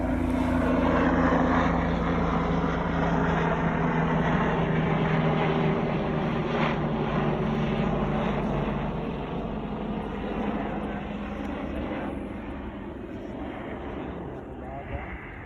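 A radio-controlled Blackhorse PC-9 converted to a T-6 Texan II flies steadily at low altitude on its maiden flight, its propeller and engine droning continuously and slowly fading, while a person speaks over the sound.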